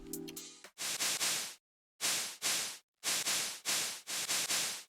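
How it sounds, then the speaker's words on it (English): White noise layer in an Ableton future pop track, played as repeated bursts of bright hiss in a choppy rhythm with short gaps of silence between, clean and isolated. "3, which is adding white noise."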